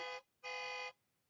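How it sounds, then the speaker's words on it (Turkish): Two electronic toy bus horn beeps, a short one and then a longer one, buzzy and bright, close and alone. "bu korna sesi yani"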